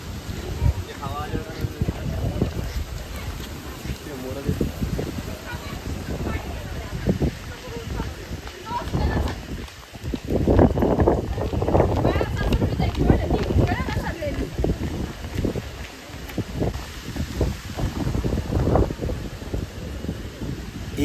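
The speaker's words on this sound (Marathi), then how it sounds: "वाऱ्याचा आवाज ऐका, केवढा वारा आहे." Strong monsoon wind at Bhimashankar gusts and roars in uneven surges against the microphone, with voices talking through much of it.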